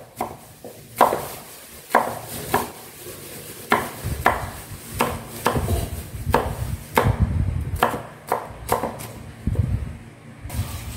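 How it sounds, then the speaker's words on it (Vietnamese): Shallots are smashed and chopped on a wooden board for steamed fish cakes, with repeated sharp knocks at an uneven pace over several seconds, close and fairly loud, with no talking. "Phần hành thơm này các bạn cũng đập ra để mình cho vào cá nhé."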